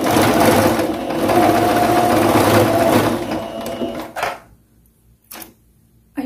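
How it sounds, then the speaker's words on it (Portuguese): A sewing machine runs a straight seam joining two fabric ends on a ruffled dress with a border, a loud steady motor whir for about four seconds, then stops, leaving short bursts of handling and a quick restart. "A gente une essas duas pontinhas e passa uma costurinha reta."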